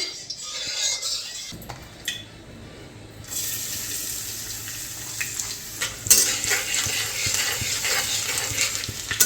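Garlic frying in ghee in a home kitchen gives a steady broadband hiss that swells and sharpens partway through, with occasional clicks, close and moderately loud, no one talking.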